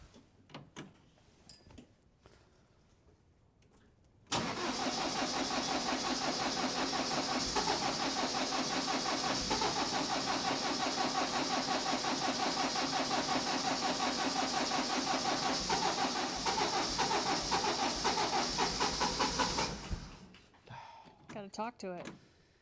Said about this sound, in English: these diesel engines, at least this one, still struggles in this cold weather